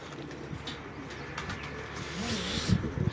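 Several pigeons at a fancier's loft in Lahore give repeated deep, rolling coos, close and clear, with faint chirps and the rustle of the flock around them.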